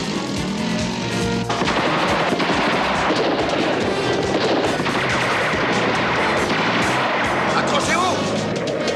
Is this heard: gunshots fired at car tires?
yes